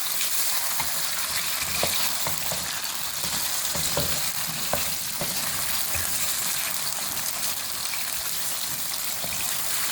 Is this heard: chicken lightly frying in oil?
yes